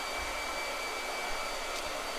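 A blow dryer runs steadily with a constant airy whoosh and faint whine, moderately loud and unbroken for the whole stretch, with no voices over it.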